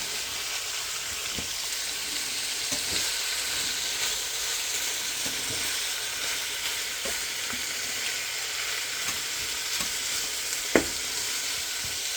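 Shrimp and sausage sear in a crowded pan for slow cooker gumbo, a continuous even sizzle close up with occasional faint stirring taps and one sharp knock near the end.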